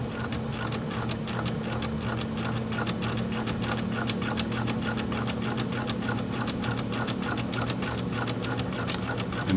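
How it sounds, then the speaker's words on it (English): Cover stitch sewing machine stitching fleece, a steady rapid needle chatter with an even mechanical hum running continuously, close and moderately loud throughout. "let the machine just feed it through."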